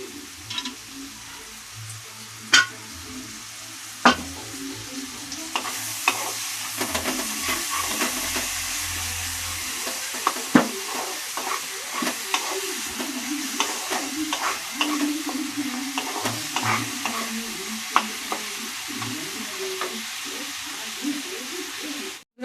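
Fried fish heads being stirred in a pot of moong dal with added water, a steady sizzle and bubbling under scattered scraping and knocks of the spoon, close and continuous.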